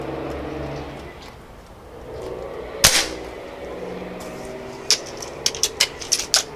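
One sharp crack from a Gamo Swarm air rifle stands out over a low steady hum, followed later by a series of quick, lighter pops spaced irregularly.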